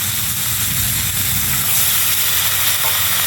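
Cumin, ginger and green chili paste frying in a pan after a splash of water, giving a steady, loud, close hiss and sizzle that carries on unbroken, with no talking.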